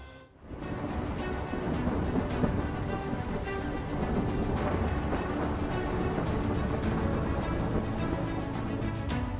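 Heavy rain pounds down without letup during a first monsoon downpour in Nadiad and Kadi, Gujarat, a dense, loud roar of falling water with rumbling thunder mixed in.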